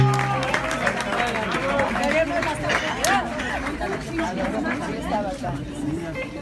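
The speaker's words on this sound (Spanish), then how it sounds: "Aplausos." Crowd applause and cheering at a Mexican awards ceremony honoring female rock and blues singers, steady dense clapping mixed with loud crowd chatter and shouting voices throughout.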